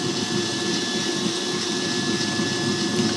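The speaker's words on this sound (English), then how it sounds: "That's as loud as it is all the way up on 11" A Zacme 7-quart die-cast metal tilt-head stand mixer running at its top speed, giving a steady, fairly loud motor whir and hum that holds constant throughout with no talking.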